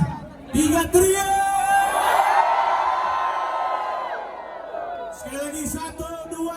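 Large concert crowd at a live show in Makassar roaring and shouting on cue, a swelling mass of voices sustained for several seconds, with a performer calling out through the PA before and after.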